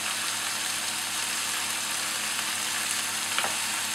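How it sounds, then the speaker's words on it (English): Butter melts in a pan while making a lasagne sauce, giving a constant close crackling sizzle, with a faint stir or scrape near the end and no voices. "we just want to work that into the pan till the butter's melted"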